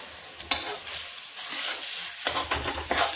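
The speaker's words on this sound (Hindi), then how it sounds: "इस दाल को हम भून लेंगे ऐसे" Urad dal dry-roasting in a kadhai while being stirred, a close hissing rustle with repeated scraping strokes of the spatula that swell and fade over the few seconds, no talking.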